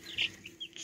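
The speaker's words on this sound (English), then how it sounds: "Look at those chickens." Faint, short chicken vocalizations, a couple of quick high clucks and chirps at a distance, with no talking.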